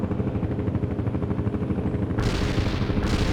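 Dense, continuous gunfire and explosions from the real-time strategy game World in Conflict, playing a Soviet assault, roar steadily and loudly throughout, with rapid overlapping reports and heavy low-end rumble.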